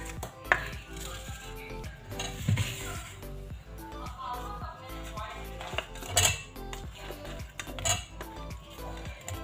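A spoon stirs chopped pomegranate, mango, apple and pear into custard in a bowl, giving repeated clinks and scrapes against the dish in an uneven rhythm with a few louder knocks.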